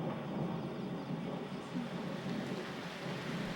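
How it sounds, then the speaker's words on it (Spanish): Steady rain hisses with a continuous low rumbling roar underneath, like distant thunder, unbroken throughout. "¡Oh, no! ¡Una tormenta!"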